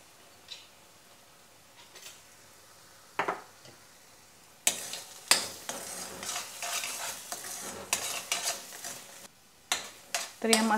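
Masala paste with added chicken masala sautéing in oil in a kadai, quiet at first with a few isolated taps, then a sizzling bed with a rhythm of sharp spatula scrapes and stirs close by.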